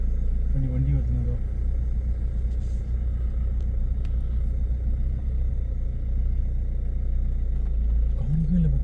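A vehicle rumbles steadily on a night forest road between Masinagudi and Moyar, heard from inside a moving bus, with a constant low engine drone throughout and voices talking over it.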